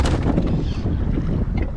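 Strong wind at sea during kayak fishing roars loudly and continuously against the microphone, a dense buffeting rush with water noise beneath.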